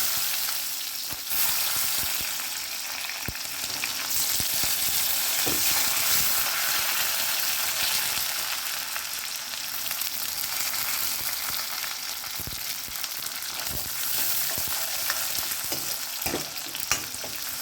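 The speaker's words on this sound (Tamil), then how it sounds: "சாம்பார் வெங்காயம் ரொம்ப வதங்கணும்னு தேவையில்லை, கொஞ்சம் வதங்கட்டும்." Shallots sautéing in hot oil for sambar, a loud continuous sizzle with frequent stirring scrapes and occasional utensil knocks, close and without talk.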